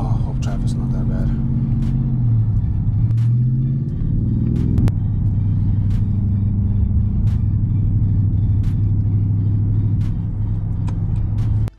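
A car engine rumbles steadily and loudly from inside the cabin while driving at night, with a brief shift in engine tone early on and occasional clicks over the continuous low drone.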